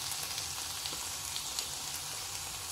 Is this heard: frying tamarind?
yes